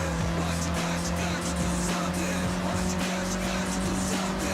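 Racing car in a video game, a loud steady engine drone with a sustained tonal whine and gritty tire squeal layered over it, continuous throughout with no gaps.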